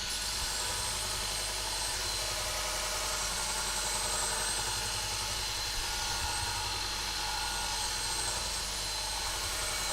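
A Pro Edge sharpening system grinding a bowl gouge, a steady, dense high-pitched whir with a low motor hum running continuously and evenly throughout, no voices.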